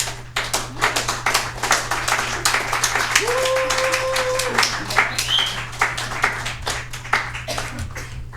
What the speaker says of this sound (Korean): 나오실 때 박수로, 열화와 같은 박수로